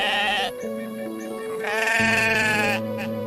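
A cartoon goat, a sturdy black one with long horns, bleats loudly and close in several quavering, wavering calls, heard on its own.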